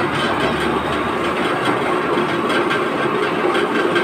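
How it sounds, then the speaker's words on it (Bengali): Oil expeller machine pressing mustard seeds into oil, a steady loud mechanical rumble and clatter that holds constant throughout with no voices. "এই মেশিনে তেল সরিষা পেশাই করা হয় এবং সরিষা থেকে তেল পাওয়া যায়"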